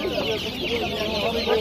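Red hens clucking with a rooster at a poultry bazaar, a steady busy stream of close, overlapping clucks from several birds with market noise behind.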